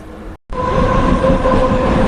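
A train at a railway station, its loud steady rumble and rolling wheel noise close by after a brief silent gap, with a faint tonal whine running through it.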